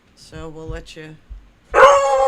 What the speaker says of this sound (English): the dog has a mini freak out